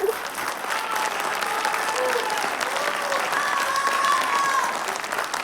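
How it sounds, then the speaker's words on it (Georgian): Sustained applause from an audience, dense steady clapping at even loudness throughout with a few crowd voices mixed in. "აპლოდისმენტები"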